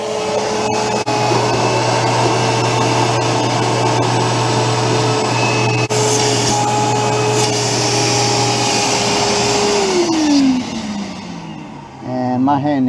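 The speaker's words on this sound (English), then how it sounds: "We just vacuumed out that drain port" Loud shop vacuum sucks at the drain port of a Willys Jeep T-90 transmission, a steady close whine with a gurgling airflow that runs on, then the motor winds down near the end.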